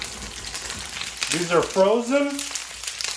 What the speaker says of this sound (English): Hopefully, when I put the first one on, it'll start to sizzle.